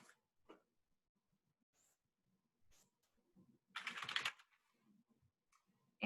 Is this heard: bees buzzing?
no